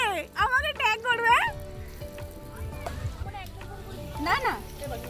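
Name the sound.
food frying in a pan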